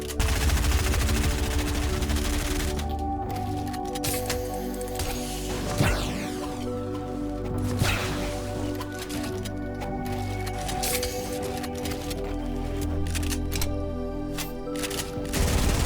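Shotgun blasts in Fortnite during an arena fight, sharp shots ringing out a few seconds apart over constant game noise and building sounds, loud and close.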